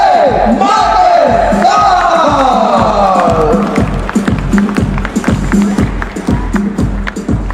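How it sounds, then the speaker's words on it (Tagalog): An audience applauds Mr. J. Martin at a Tao Elevate success-story sharing event, with loud rhythmic clapping that holds steady throughout and whoops and shouts rising over it in the first few seconds. "Bigyan natin ng milyon-milyon palakpak para kay Mr. J. Martin!"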